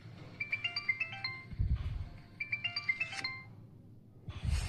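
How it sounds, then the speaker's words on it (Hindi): A mobile phone ringtone plays two melodic bursts of electronic tones, moderately loud, with rustling and low thumps between and after them and no talk. "तुम्हारा फोन बज रहा है।"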